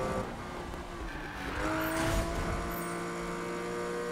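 Magnus Walker's Porsche drones along in Need for Speed 2015 with a steady engine note, its pitch slowly climbing under a bed of road and wind noise, moderately quiet and continuous with a brief swell midway.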